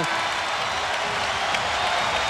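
Large sellout basketball arena crowd at a Golden State Warriors home game in Oakland, a steady distant roar of murmur and cheering, continuous and even throughout.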